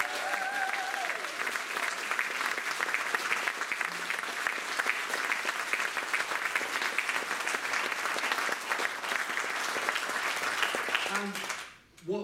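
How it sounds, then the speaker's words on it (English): Sustained audience applause at a folk music evening in a room on the moor, a dense, steady roar of many hands clapping that carries for over ten seconds before cutting off, with some voices mixed in. "So give her a round of applause."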